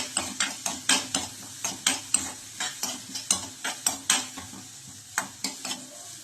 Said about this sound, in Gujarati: હવે આપણે સૌપ્રથમ red capsicum and green capsicum add કરીશું અને મિક્સ કરી દેવાના છે